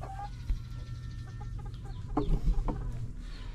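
Chickens from Nueva Ecija cluck steadily in a pen, with scattered calls and a cluster of louder clucks near the end over constant low farm background noise.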